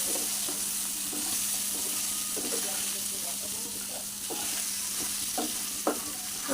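Mutton pieces with turmeric, chilli powder and whole green chillies stirred in a hot pan, a steady close sizzle under repeated scraping strokes of a spoon, with a voice talking over it.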